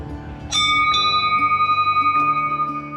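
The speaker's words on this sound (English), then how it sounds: "These bear bells are all over the place." Bear bells worn by hikers on a crowded mountain route in Japan ring out in a few clear metallic strikes. Their bright tones linger and shimmer close by, with no talking over them.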